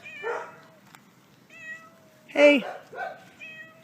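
A cat meows several times in a row, with short clear tonal calls close to the microphone and a louder, rising cry in the middle. A person speaks briefly between them.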